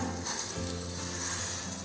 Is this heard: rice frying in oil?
yes